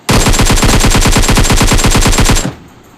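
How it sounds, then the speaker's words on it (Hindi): Rapid automatic gunfire from PUBG Mobile gameplay, a loud, dense burst of about two and a half seconds with steady regular shots that stops abruptly, leaving a faint tail. "तभी एक बंदा पीछे फायर कर रहा था मेरे को"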